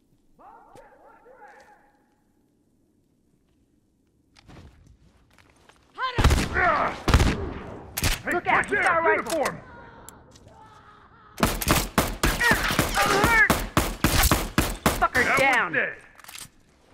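Rifle gunfire in The Last of Us: sharp close shots rings out, first a few separate cracks, then a rapid burst of many shots, mixed with shouting voices and scuffling.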